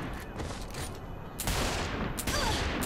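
Gunshots in the Saints Row 4 video game, a volley of sharp close shots that grows denser partway through, over steady game background noise with no talking.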